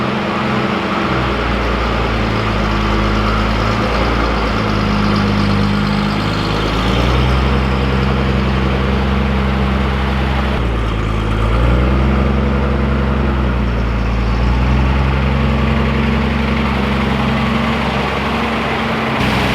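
A Datsun 280Z engine idles steadily nearby, a low rumbling drone with a slight rise in pitch partway through, no voices.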